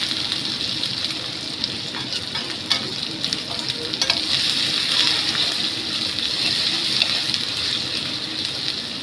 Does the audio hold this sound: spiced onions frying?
yes